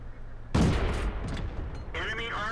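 A Tetrarch tank's gun fires in World of Tanks, one sharp, loud blast followed by a rumbling decay and the noise of a battle.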